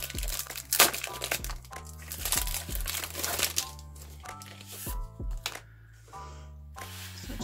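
Art supply packaging, including a compact washi paper box, being opened up close with steady crinkling and crackling of wrapping over a soft musical background.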